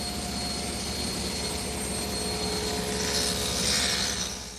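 A table saw cuts a rabbet in wood stock for a Chippendale mirror, the piece fed with its cove against the fence and facing down, producing a steady, loud broadband roar with a brief brighter swell toward the end and no talking.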